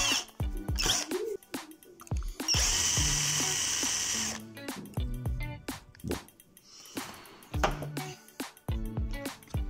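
Power drill boring out a stuck screw during a brushless motor conversion on a WLtoys 12428 RC truck, heard as several loud close bursts of whining drilling separated by short pauses and clicks.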